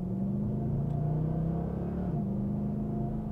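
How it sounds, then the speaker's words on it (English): A 2011 Mercedes E63 AMG V8 revs up and shifts through its gears, a deep, rising engine note dipping briefly at a smooth gear change before building again, steady and moderately close. "But you do notice the difference in sound coming from that V8."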